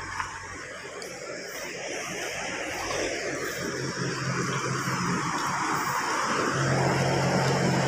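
A vehicle engine rumble on a village road in the Philippines, building steadily louder as it draws near and passes close by, with a faint steady hum underneath.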